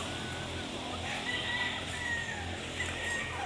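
Chickens and hens mill about outdoors near a mechanic's shop, giving scattered clucks and a faint, thin crow over a steady hum of background noise.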